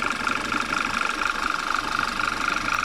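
A car engine idling during a PCV valve check, a steady mid-pitched hum with a regular rhythmic pulse, close and continuous with no talking.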